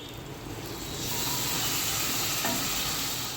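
Spiced masala sizzles loudly in a pan, the frying hiss swelling as water is added around the one-second mark and holding steady and close, with a brief stir or clink near the end; no talking.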